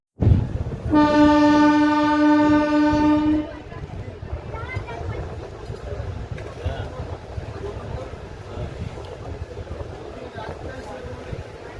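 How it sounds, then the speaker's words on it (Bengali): Passenger train 03065 on the Azimganj to Rampurhat run sounds a loud, sustained horn blast of about two and a half seconds as it departs a station. A steady rolling rumble of the carriages follows. "এক মিনিট হল্টের পর আমাদের ট্রেনটা এখান থেকে ডিপার্চার হবে"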